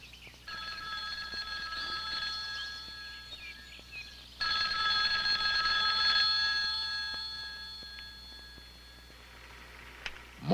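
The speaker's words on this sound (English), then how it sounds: "Morgan receives a phone call from a logger named Skip Wood" A telephone rings in two long bursts of electronic trilling bell tone, the second louder and closer, in an otherwise quiet room with no voices.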